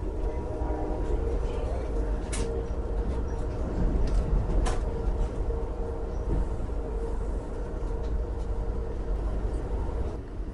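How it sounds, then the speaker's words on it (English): A Norfolk Southern SD60 diesel locomotive passes on the rail line with a steady, heavy rumble and rolling wheel noise. A few sharp clanks break the constant low drone, and a voice speaks faintly. "We catch two more classic diesels, a Norfolk Southern SD60 with a standard cab, and in the background is a Wisconsin Central locomotive."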